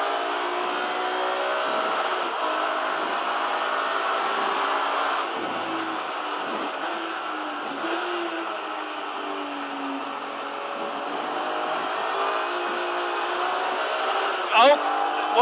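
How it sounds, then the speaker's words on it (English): In-car engine noise from a BMW race car in the Kumho BMW Championship at Donington Park, running steadily with small dips as revs cut at the limiter, then a brief sharp squeal near the end; a voice talks faintly underneath. "I think the rev limiter's coming in too early."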